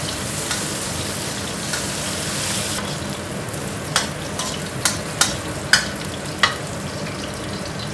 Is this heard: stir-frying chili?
yes